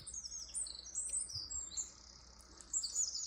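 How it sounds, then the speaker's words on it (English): Several birds in a damp rainforest after rain trill and chirp in high, overlapping bursts, fairly close and clear over a quiet background without talk. "and you can hear the birds."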